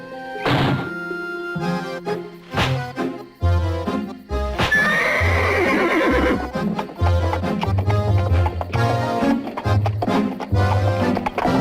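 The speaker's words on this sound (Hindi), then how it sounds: "बेवकूफ घोड़ा, और तेज, और तेज।" An animated horse neighs and whinnies over heavy, rhythmic hoof thuds that clip-clop, with loud dramatic film music running throughout.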